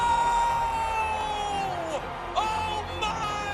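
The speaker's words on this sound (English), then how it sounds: "And the crowd is losing it here" Stadium crowd at a San Antonio FC versus Colorado Springs Switchbacks soccer match roaring and cheering after a goal, a dense sustained wall of voices with whoops and shouts, while a commentator talks excitedly over it.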